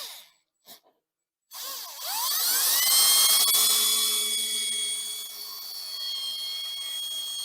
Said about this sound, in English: I'm going to drill a hole in here with this drill bit